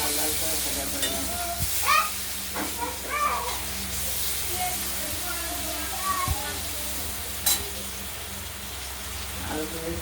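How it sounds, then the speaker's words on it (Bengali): Potato pieces frying in hot oil with spices for a katla fish curry, a steady sizzle running throughout with occasional stirring clatters and brief utensil knocks, close and moderately loud. "আলুগুলো একটু লাল করে ভাজা করে নেব"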